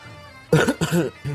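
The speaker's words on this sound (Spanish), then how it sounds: "nunca corto cuando voy a toser" A few quick coughs close to the mic, bursting in short succession with brief pauses, no talking.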